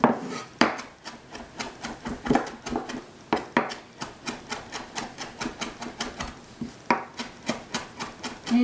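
Vegetables for egg rolls are finely chopped with a knife on a board, producing a fast, even run of close, crisp taps that continues without pause, with no talking.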